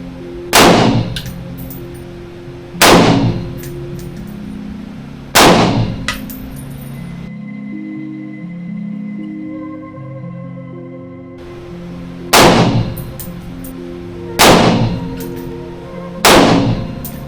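Rifle shots ring out at a target during a scope windage test, six loud sharp cracks with ringing metallic tails in uneven spacing, three early and three late, separated by a quieter middle stretch with faint low tones.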